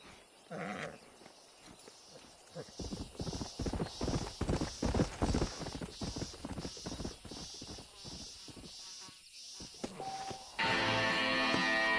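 Horse hooves clip-clop in Red Dead Redemption as a stallion moves along in a quick, steady rhythm for several seconds. Softer game ambience sits around the hooves, and a louder sustained noise takes over at the end.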